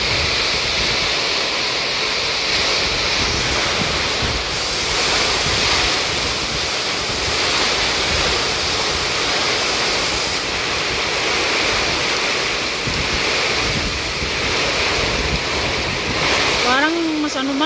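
Steady roar of heavy rain and gusting wind over a field of corn and crops, dense and loud, with a voice briefly rising near the end.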